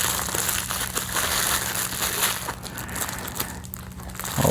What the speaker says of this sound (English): Twisty ties and some plastic wrap.